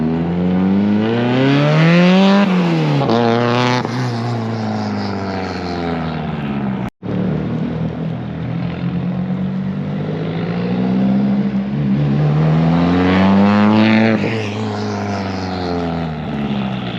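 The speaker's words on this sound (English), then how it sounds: "Oh, I love the sound of turbo flutter." A turbocharged Nissan Silvia S13 is driven hard, its engine note climbing and falling through the gears with turbo flutter between shifts. It is loud and close, with one abrupt brief dropout midway.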